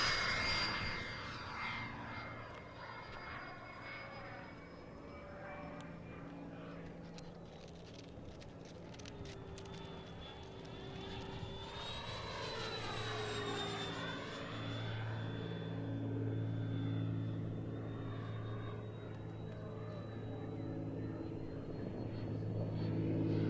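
An RC F4D Skyray model jet flies past, its turbine whine rising and sweeping in pitch as it approaches and then fades into a distant roar, heard alone without talk.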